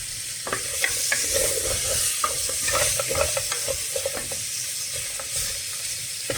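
Meat frying in a pan for Moroccan couscous, a steady bright sizzle under the clatter of a utensil stirring and scraping, close and continuous with no talking.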